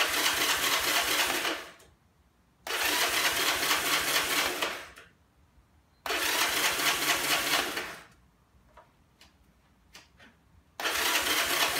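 Honda C70 motorcycle engine being started with the ignition on and run switch set to run: three loud, whirring cranking bursts of about two seconds each, separated by short pauses, without catching.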